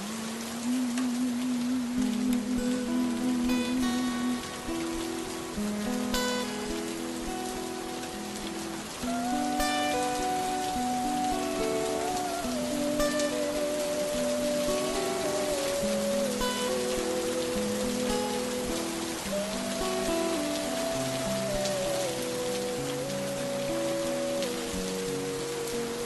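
Steady rain falls as a soft, continuous hiss for the whole stretch, lying beneath relaxing chill music with a clear melody on top.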